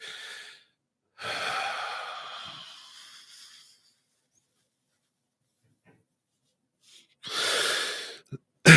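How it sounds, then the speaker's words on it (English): A deep breath drawn in and pushed forcefully out, then a long silent pause before another hard, breathy exhale, close and fairly quiet with no talking. "you take a deep breath and push it out"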